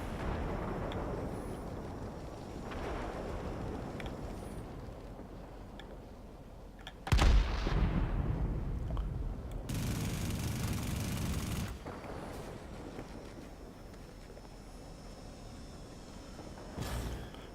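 The M-61 Vulcan cannon on an F-94 in World of Warplanes firing in rapid bursts, a harsh roaring rattle over a steady engine drone, with a loud sudden burst midway and a sustained stretch of fire after it.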